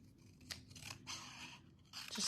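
Scissors snip through paper card stock in a quiet room, with several close, crisp cutting strokes in short bursts and no talk.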